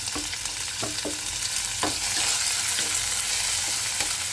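Onion, green chilli and curry leaves fry in a pan with a steady broadband sizzle and a few soft spoon scrapes and taps. No one speaks.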